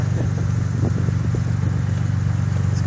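A 2004 Mazda6 fitted with a transplanted 2006 Ford Fusion engine runs with a steady, loud, close exhaust rumble, an even low drone without revving throughout.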